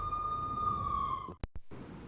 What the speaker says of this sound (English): I could hear the sirens.